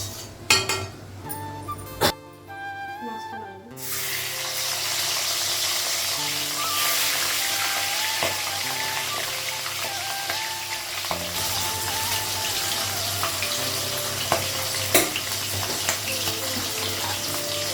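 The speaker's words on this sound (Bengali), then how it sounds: "তা এখন হচ্ছে মাছটা ভাজবো আগে" A fish fries in a pan in a home kitchen, giving a loud, steady sizzle and hiss close by that continues throughout after a few brief knocks at the start.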